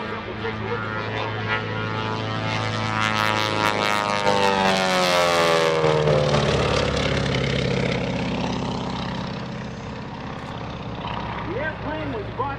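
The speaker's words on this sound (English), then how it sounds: "Matt Younkin goes to the top of the nacelle. Watch it roll around" Twin Beech airplane flying aerobatic rolls at the EAA AirVenture 2018 airshow, its propeller engine droning loudly and steadily with pitch sweeps as it maneuvers, under continuous commentary over the PA.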